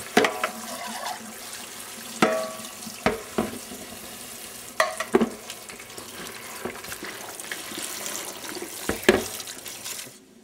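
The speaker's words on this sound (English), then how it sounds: "his onions cooking in a little olive oil for a couple minutes" Onions fry in a little olive oil in a pan, with a soft steady sizzle. Close scrapes and knocks from stirring cut in now and then, and no one speaks.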